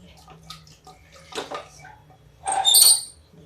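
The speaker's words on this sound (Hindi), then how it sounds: "ये देखिए हम पानी डाल रहे हैं।" Water poured into a pot of cooking potato and pointed gourd curry, a brief splashing gush near the end after quieter kitchen clatter, loud and close.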